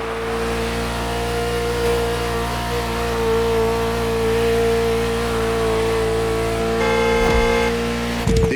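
A Ferrari sports car driving in the racing game The Crew Motorfest gives a loud, continuous engine drone that holds steady, with a brief shift near the end.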